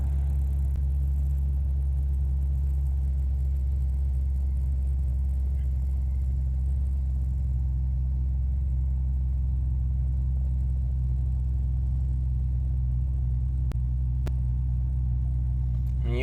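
A 2010 car engine idles through a cold-start warm-up, producing a steady, low rumble that holds constant throughout without any talk.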